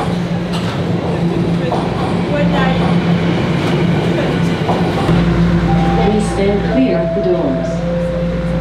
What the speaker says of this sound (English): I'm on a subway.